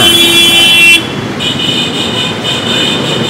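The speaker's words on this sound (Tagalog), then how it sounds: "Pero ang mga sasakyan, walang preno sa pagbusina." Car horns sound in heavy street traffic on Rizal Avenue in Manila, beside a church and a school. Sustained horn tones ride over a steady roadway rumble, with one long blast giving way to another horn.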